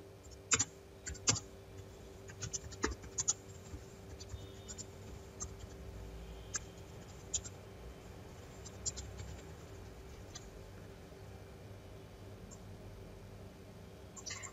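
Light clicks of typing on a computer keyboard while building a quiz game in Flash 8, irregular bursts of keystrokes, faint and close in a quiet room.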